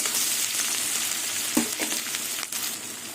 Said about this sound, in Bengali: আর পেঁয়াজ আর কাঁচা লঙ্কা দিয়ে দেবো মাছটা কিছুক্ষণ ভাজবে